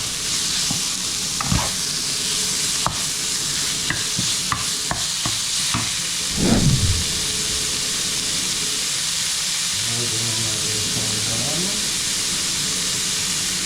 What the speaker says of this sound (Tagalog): Palabasin natin yung mantika ng chicken.